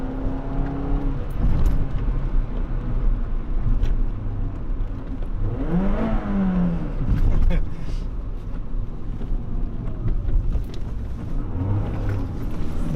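A Peugeot 206 RC on a test drive, its engine droning and rising in revs with road and wind noise throughout, while people talk inside the car.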